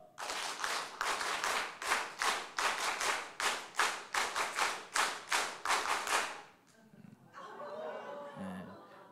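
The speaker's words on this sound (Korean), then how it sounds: "손바닥이 아프게 때려야 돼요. 아프게." A congregation at a church revival meeting claps together in a fast, even rhythm, roughly sixteen loud unison claps, then the clapping stops and a voice speaks.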